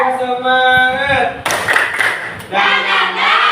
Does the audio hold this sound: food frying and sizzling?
no